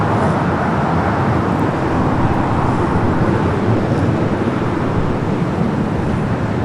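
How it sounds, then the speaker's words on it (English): An Aeromexico Boeing 787-8 Dreamliner taxis for departure at Los Angeles International Airport, its engines a steady, broad rumbling roar heard at a distance, constant throughout without voices. "We do have Aeromexico Dreamliner heading to 24 left for a departure back to"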